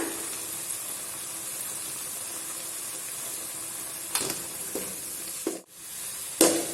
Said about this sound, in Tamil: இது வந்து நல்லா 5 மினிட்ஸ் நல்லா கிண்டி வரட்டும்.